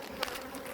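Honey bees at an Omlet Beehaus hive buzzing in a brief, faint, steady drone with a couple of quick louder passes close by.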